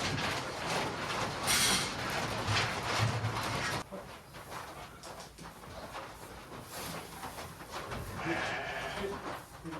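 Sheep bleat on a farm at lambing time, several calls near and far over a busy, noisy background that drops in level partway through.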